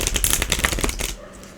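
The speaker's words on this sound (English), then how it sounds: "If nothing comes out, I'm gonna shuffle again." A deck of tarot cards being shuffled, a quick dense riffle of crisp flapping card noise lasting about a second, close and fairly loud, then stopping abruptly into quiet.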